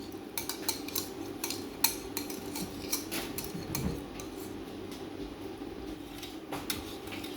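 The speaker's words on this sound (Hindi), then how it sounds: "फ्रेश दूध और जो खुशक दूध और क्रीम चीनी देसी घी डाल के हमने इसको अच्छी तरह मिक्स कर लिया" Spoon scraping and clinking against a bowl while mixing fresh milk, milk powder, cream, fine sugar and desi ghee for a rasmalai filling, a steady run of light metallic taps and stirs close by.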